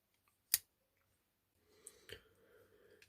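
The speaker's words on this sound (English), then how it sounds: "Next is the scissors." Spring-loaded scissors on a Leatherman Wingman multitool make one crisp, sharp snip, followed by quiet rustling and handling clicks.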